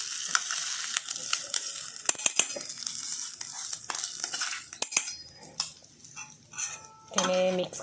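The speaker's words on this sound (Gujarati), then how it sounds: "હવે આપણે જે મગ બાફેલા ક્રશ કરેલા છે આ રીતે તેમાં નાખી દઈશું" Boiled, crushed mung beans tipped into a sizzling pan and stirred for a protein-rich mung soup, with scraping, wet stirring and frying crackle close up, plus brief metallic knocks.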